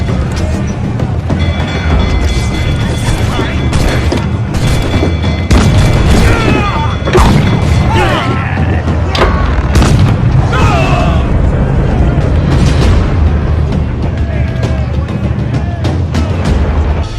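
Ship cannons fire in a naval battle in Assassin's Creed Black Flag, with repeated heavy booms and bursts over a dense, continuous roar of wind, water and combat, loud and close.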